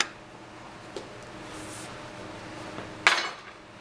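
Metal knives lifted and knocked together on a hard surface during hand painting work: one soft clink, then a sharper, brighter metallic clatter near the end, close and alone against faint room hiss.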